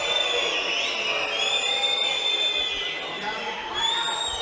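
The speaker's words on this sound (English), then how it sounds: "The crowd perhaps a little unfairly booing him" Hungarian fans in a sabre fencing arena fill the hall with steady, dense crowd noise, a continuous roar of voices and whistling tones that rises and falls slightly, with a commentator talking over it.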